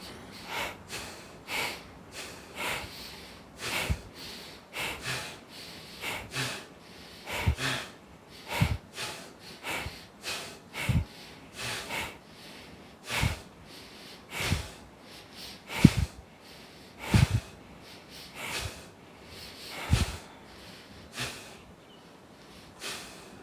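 Forceful pumping breaths from a person doing an abdominal breathing exercise, a long run of sharp, snort-like nasal exhalations at a steady, slightly uneven rhythm, close and fairly loud with brief gaps between bursts.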